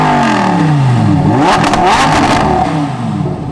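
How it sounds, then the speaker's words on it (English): A high-revving Lamborghini V10 engine roars, sweeping up and down in pitch with a loud, aggressive howl, close by, with a brief word spoken at the start. "the great sound from that V10, which is not overrated at all"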